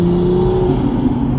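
Engine of a manual Toyota Supra fitted with a carbon fiber Armaspeed intake, a loud, close, sustained rev held at a steady pitch with a deep droning tone and no voices.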